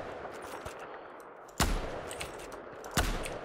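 A sniper rifle fires two loud, sharp shots about a second and a half apart in the Battlefield 4 video game, each crack followed by a brief ringing decay over a quieter ambient background.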